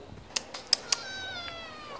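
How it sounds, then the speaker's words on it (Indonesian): A stray cat gives a few short, faint meows at a distance against quiet background, with several sharp clicks or taps heard before them. "Ada kucing nyasar."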